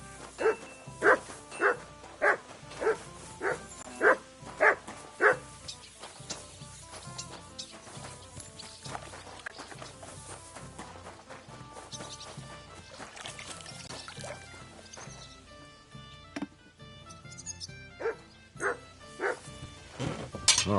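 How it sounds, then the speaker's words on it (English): A dog in the video game Kingdom Come Deliverance II barks in a rapid regular series of sharp woofs, pauses, then barks again a few more times over a quiet ambient background. "You silly doggy."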